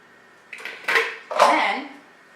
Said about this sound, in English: you literally put those leaves into a bowl